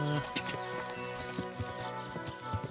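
Hooves of Pebbles the horse clip-clop at a trot in Kingdom Come Deliverance 2, a quick regular beat of light thuds over a soft background tone with no speech.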